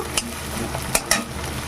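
Onions fry in hot oil in a pan for a fish egg curry, a steady close sizzle with a few sharp clinks of a spatula against the pan.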